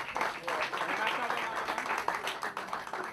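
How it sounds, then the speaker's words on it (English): Audience applause at a cricket tournament event on St. Martin, a dense, steady patter of clapping with voices mixed in throughout. "Give him a round of applause"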